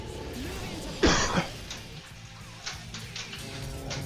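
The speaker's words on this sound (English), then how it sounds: "I got a cough now, but I'm trying not to." A single short cough up close, followed by faint taps and low background noise, during play on a Stern Iron Maiden pinball machine.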